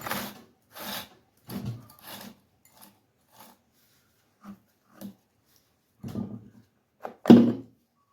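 A hand file rasps across the chain of a used Echo CS-590 chainsaw in short, separate strokes, several in a quick run, then sparse ones with pauses and a louder final stroke.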